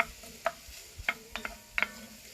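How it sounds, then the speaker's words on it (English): Onion and fennel sautéing in butter and olive oil on a Kamado Joe, stirred with a few quiet, separate scrapes and clicks over a faint, soft sizzle. "So we'll give that a stir."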